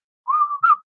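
One short whistled tune from a man: a clear held note that slides slightly, then a quick higher rising note, close and loud in silence.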